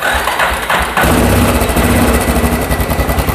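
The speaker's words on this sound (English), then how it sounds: "So we're going to turn the key on. I've got my valve for the fuel set to on, full choke, and let's give her a little bit of throttle here." A small engine, just after a valve adjustment, turns over on full choke and catches at about one second, settling into a loud, steady, close running rumble.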